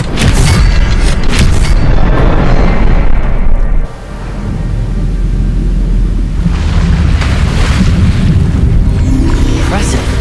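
A wand spell, Expelliarmus, cast in the video game Hogwarts Legacy, lands as a loud booming blast with a short dip about four seconds in, then a sustained rumbling wash.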